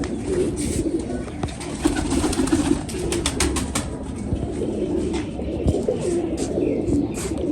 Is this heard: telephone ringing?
no